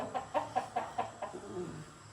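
Ewin's White gamefowl on a farm cluck in a steady run of about six evenly spaced, mid-volume calls, then trail off into softer murmurs; no talk over them.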